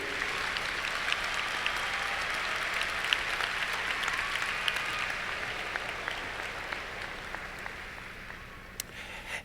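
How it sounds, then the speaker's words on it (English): Audience applause at a high school graduation ceremony, a steady, dense wash of many hands clapping that holds evenly throughout and tapers slightly near the end. "This applause is for you, Nikki."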